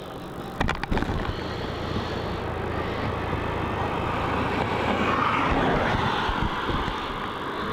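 A Cathay Pacific Boeing 777 airliner at Melbourne Airport produces a broad, steady jet engine roar that swells slightly, heard from a distance outdoors after a brief clatter at the start, with no one speaking.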